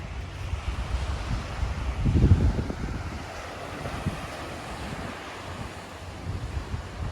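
Ocean surf rolls onto the shore beside sand dunes on Prince Edward Island, a steady low roar mixed with gusty wind buffeting the microphone and a slightly louder swell near the middle.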